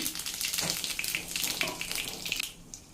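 Mustard seeds, cumin and asafoetida sizzle in hot oil for mango chutney, a dense crackling hiss with rapid spits and pops, close and continuous, easing slightly at the end.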